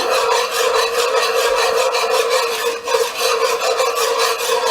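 A spoon scrapes and stirs steadily in a pot where sugar is browning with chicken for Trinidad stew chicken. The scraping is dense and continuous, close and loud, with no speech.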